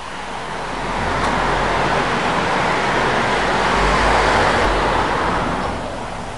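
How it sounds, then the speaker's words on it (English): A car passes through Crybaby Tunnel at night, a broad rising and falling roar of tires and engine that swells over about a second, holds steady, then fades, with no talking. "there's a car coming, guys."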